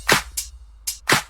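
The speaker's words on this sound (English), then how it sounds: "Just simple hi-hats and claps in that." A dance pop top loop of simple hi-hats and claps programmed in FL Studio, with four bright, crisp hits in a syncopated pattern over a faint low hum.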